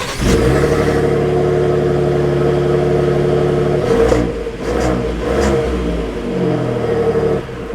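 A 2024 Ford F-150 Tremor pickup engine hums at idle, then revs up with a couple of throttle blips as the truck sets off, loud and close, heard from the cabin with no talk.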